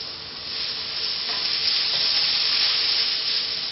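Oil sizzles steadily in a hot pan while beef and tomato cook, a dense, even frying hiss with no speech over it.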